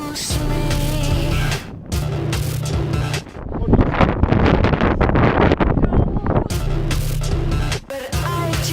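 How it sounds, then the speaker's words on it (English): Strong wind roars and buffets the microphone in loud, gusty rushes, rising and falling throughout with no voices, out on ice. "It's so windy I'm sliding backwards on the ice."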